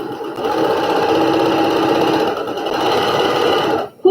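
A sewing machine stitches a quilt block in a steady, close whirring run, briefly easing mid-way before resuming and stopping at the end.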